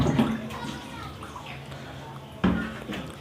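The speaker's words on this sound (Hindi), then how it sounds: "इसके अंदर बर्तन का पानी निकालते हैं सारा।" Water sloshes and pours out of a vessel in a soaked cloth, continuous splashing close by, with a louder splash near the end and faint voices in the background.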